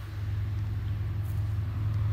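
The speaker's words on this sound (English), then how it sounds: "You might be able to hear the cars in the background." Steady low rumble of car traffic on a nearby road in rural New Hampshire, a continuous even drone running through the whole stretch with no single pass standing out.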